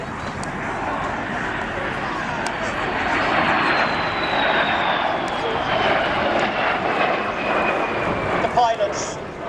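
A cannon-armed fighter aircraft flies past at the Wales National Airshow, a sustained engine roar with a slowly falling whine, heard under continuous talking.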